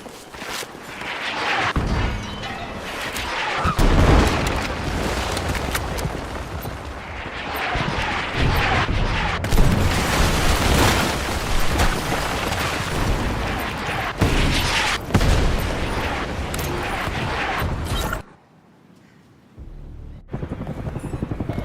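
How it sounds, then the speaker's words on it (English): Incoming artillery fire support in a video game lands as a long barrage of deep booms and blasts over rumbling gunfire and helicopter noise, loud and sustained, then drops out briefly before resuming. "Heads up, incoming fire support."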